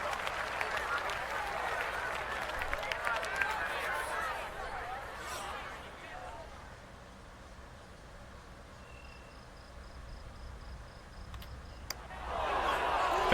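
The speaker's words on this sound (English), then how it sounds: "The crowd doesn't like it." A golf gallery in the EA Sports PGA Tour video game reacts to a short putt with a murmuring, applauding swell that fades into quiet ambience, then rises again at the end.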